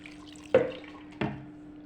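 Water from a kitchen tap splashes in two short, separate bursts into a pot of fish paksiw seasoned with vinegar, each burst rushing in sharply and then fading, over a faint steady hum.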